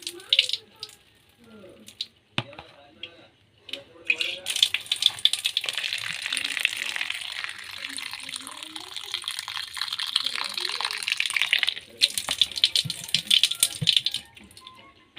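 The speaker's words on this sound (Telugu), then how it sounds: "వాటర్ వంచుతున్నానండి" Water is poured in a steady, rushing stream for several seconds, with rattling and clinking before and after, and a voice talking briefly near the start.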